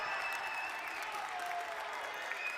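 A stadium crowd at an MLIS indoor soccer match between Amarillo and Salt Lake City roars after a goal, a sustained distant wash of cheering and clapping with a faint whistle tone on top.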